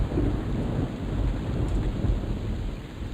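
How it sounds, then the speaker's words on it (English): Rain and thunder from the Trakanon zone of the online game EverQuest, a steady dense rain hiss with a low rumbling thunder roll underneath, continuous and without talking. "Some thunder in the background."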